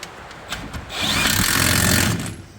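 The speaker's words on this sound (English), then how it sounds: "So then we'll just bolt that down." A power tool bolts down a part on the front end of a Toyota T100 3.0 during a CV axle and front shock job: a few sharp clicks, then a loud whirring run of about a second and a half that cuts off.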